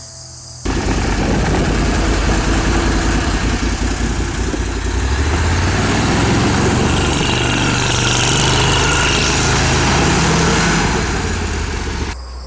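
A Mudd-Ox amphibious machine's engine runs steadily and loudly at close range as the machine counter-rotates in its own circle, a continuous mid-pitched drone with rough low vibration and no voices.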